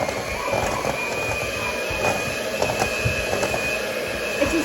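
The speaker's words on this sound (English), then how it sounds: "It's just blending by using the mixer." An electric mixer blends butter, flour, sugar and salt in a kosher kitchen, giving a steady, dense whirring hum that runs unbroken and fairly loud throughout, with no talking.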